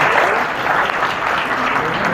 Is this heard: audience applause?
yes